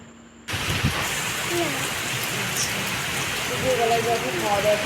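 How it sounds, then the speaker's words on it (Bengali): Steady heavy rain with storm wind hisses across the whole clip after a brief quiet start, with a few faint voice-like sounds in the background. "বৃষ্টির সাথে ঝড় হাওয়া"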